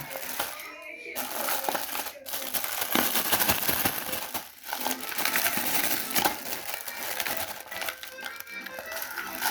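Crinkly plastic grocery bags from a Kaufland store in Berlin rustle and crackle nearly throughout while greens are unpacked, close and busy, with brief pauses and handling noises.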